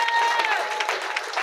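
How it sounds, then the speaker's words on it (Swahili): Congregation in a church clapping together for Jesus, a steady broad wash of applause with some crowd noise and faint voices mixed in throughout. "Pigie Bwana Yesu makofi mazuri."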